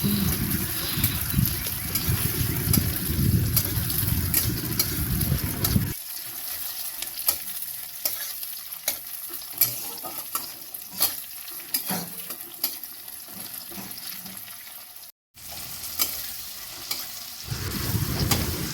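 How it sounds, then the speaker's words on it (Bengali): Chopped tomato sizzles softly in a pan while being stirred, with repeated scraping and clinking of a spatula against metal, close and moderately quiet, no voices. "তো এবারে আমি দিয়ে দেবো কুচনো টমেটোকে বেশ ভালোভাবে নাড়াচাড়া করব"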